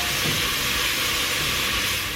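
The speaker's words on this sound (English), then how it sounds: "we're just gonna saute this until it's golden brown" Onions sautéing in butter in a pan give off a dense, even sizzle and hiss that runs unbroken and fairly loud throughout, with nobody speaking.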